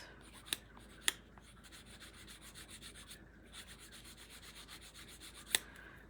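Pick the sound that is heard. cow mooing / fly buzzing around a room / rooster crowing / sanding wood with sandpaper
sanding wood with sandpaper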